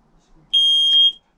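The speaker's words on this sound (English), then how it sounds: "that really just leaves us the noisy bits, which is my carbon monoxide detector and my smoke alarm there" A smoke alarm gives a single steady high-pitched electronic beep inside a 2021 Land Rover Discovery D4 camper conversion, lasting about half a second, clear and close, with near silence before and after.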